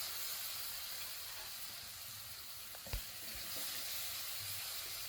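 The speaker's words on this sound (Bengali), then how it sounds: "বাকি মাছগুলো আমি এভাবে আবারও ভেজে নিব" Pieces of fish frying in oil in a pan for a Bengali catla fish curry with bottle gourd, a faint continuous hiss and sizzle with one brief clatter midway.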